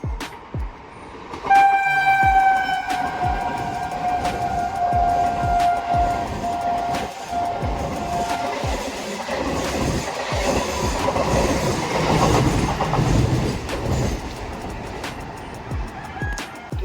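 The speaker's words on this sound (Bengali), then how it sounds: "আর একটা ট্রেন যাবে এখন" A train passes from a rooftop vantage, opening with a sustained horn blast and then a long, steady rumble and rhythmic wheel clatter that swells and fades, moderately near, with no talking.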